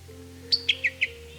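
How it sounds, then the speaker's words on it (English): Bird beside a wild honey bee swarm capture, giving four quick bright chirps in a short even series, close and clear over a low steady hum, with no talking. "You are a good-looking bird."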